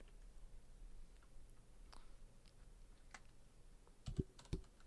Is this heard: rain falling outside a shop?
no